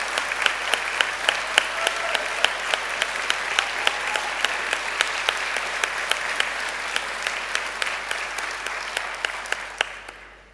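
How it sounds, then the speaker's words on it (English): Audience applause at a university degree ceremony in Birmingham, a sustained crowd of clapping hands at even loudness that fades out at the end. "let's give them a huge round of applause."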